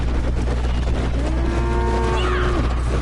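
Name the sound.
cattle stampede mooing in a video game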